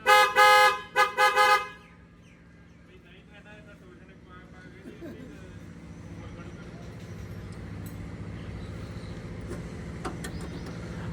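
Three loud, close horn blasts ring out from a newly bought Preet 4949 Rudra track harvester, then give way to a low, steady engine hum that slowly grows.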